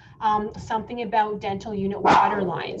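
A dog barks and yips several times during a thunderstorm, its sharp calls rising loud and close under and between a woman's ongoing speech.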